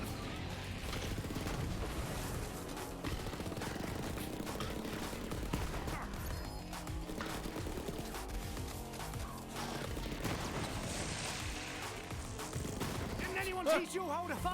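Rapid weapon gunfire in Borderlands against a Maliwan takedown, dense bursts of shots and impacts running continuously, loud and busy, with game voices and talk mixed in.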